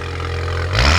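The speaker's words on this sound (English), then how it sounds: "Now, give me a little revs." A Porsche Macan engine with an aftermarket cat-back valved exhaust idles with a low burble, then briefly revs up louder and rougher near the end.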